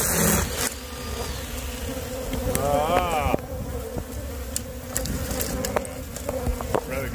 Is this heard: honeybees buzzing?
yes